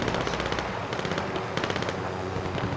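Automatic gunfire from a video game shooter rattles out in three rapid bursts with short gaps between them, loud and close.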